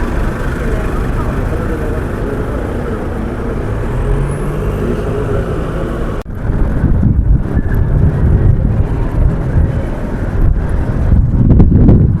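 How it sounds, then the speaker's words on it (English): Strong wind gusts in Melaka, Malaysia buffet the microphone in a constant low roar, growing heavier and rougher partway through, with no talking. "I'm really loving the weather out here. It's nice and windy"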